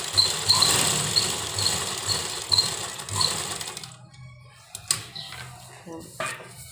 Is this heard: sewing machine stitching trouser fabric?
yes